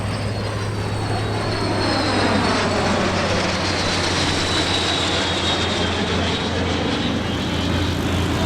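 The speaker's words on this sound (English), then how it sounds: "Numerous L-39s, along with some less common types like the S-211 and the T-33, all took to the air." L-39, S-211 and T-33 jet trainers fly over an EAA AirVenture Oshkosh 2023 airshow, giving a loud, steady jet roar with a high whine that rises and sweeps through the passes, with no voices.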